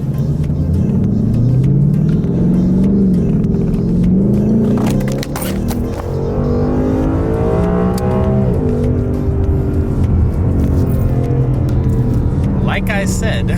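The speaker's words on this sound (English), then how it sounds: "you can enjoy this little second gear pull" A Ford Mustang pulls hard in second gear from a green light, its engine note climbing loudly and rumbling close up. Someone talks over it, and a clatter sounds midway.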